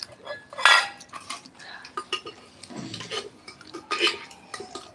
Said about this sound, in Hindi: खाना खा रही हूँ